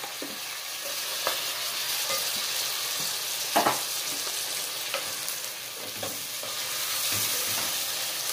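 Shrimp frying in a pan for garlic butter shrimp, a steady broadband sizzle throughout with occasional sharp pops and utensil clicks, close and fairly loud with no talking.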